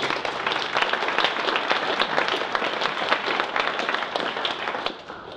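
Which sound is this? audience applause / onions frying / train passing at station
audience applause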